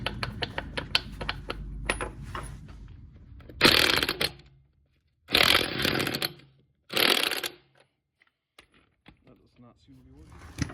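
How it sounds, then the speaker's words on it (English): A socket wrench works a 32 mm axle nut loose on a 2002 Ford Ranger 4x4, giving three loud bursts of broadband grinding and straining with low talk and scattered clicks in between. "you're gonna want to get the axle nut off. I'm using a 32 millimeter."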